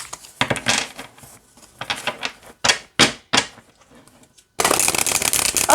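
A tarot deck is shuffled by hand in quick riffling bursts, with separate crisp card rattles and snaps, then a longer continuous riffle at the end.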